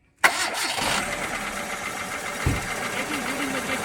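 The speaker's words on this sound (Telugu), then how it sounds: "ఒక్కసారి ఇంజన్ స్టార్ట్ చేసి చూపిస్తాను" A manual car with a 1,500 cc engine in neat, non-accidental condition cranks and fires abruptly, then settles into a steady close idle with one brief low thump partway through.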